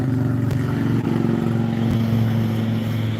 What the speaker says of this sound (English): Hello, loud motorcycle.